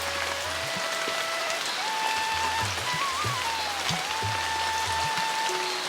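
Heavy cartoon rain pours steadily and loudly, a dense continuous hiss of drops drumming on surfaces, with no talking over it.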